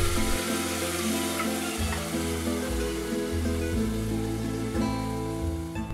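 Marinated mutton fries in hot oil with browned onion and bay leaf. A loud, steady sizzle with stirring runs throughout, and faint steady tones sit in the background.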